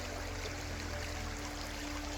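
Creek water runs steadily through a quiet natural creek during a walk outdoors, a faint continuous wash with no voices.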